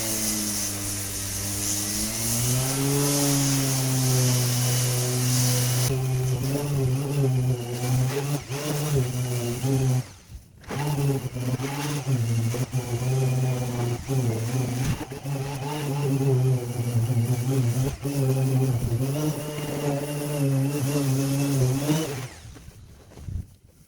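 Dual action sander fitted with an 80 grit disc working a rusty wheel arch on a MK7 Fiesta, a loud continuous whine that rises as it spins up, dips briefly midway and runs on until it cuts off near the end.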